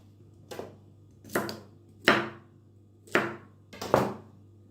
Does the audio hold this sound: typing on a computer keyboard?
no